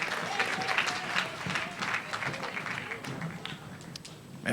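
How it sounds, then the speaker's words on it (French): A church congregation applauds and cheers to acclaim Jesus during a French-language service, a dense, steady wash of clapping with voices mixed in for the whole stretch. "on acclame Jésus"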